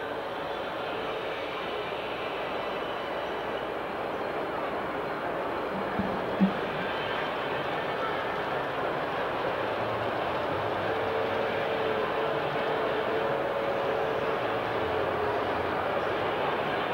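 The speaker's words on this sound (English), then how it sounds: "then the block will go green and that steam engine can pull in," An LGB model steam engine on a garden-scale track rolls into a passing siding, a steady, moderate rumble of wheels and motor running continuously with a brief click partway through.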